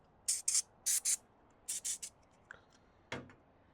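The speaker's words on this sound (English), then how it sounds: "This is electrical connection cleaner." Electrical connection cleaner is sprayed in several short, sharp hissing bursts on a Porsche 944, mostly in pairs, close and crisp against a quiet background, followed by a few faint clicks and a brief rattle.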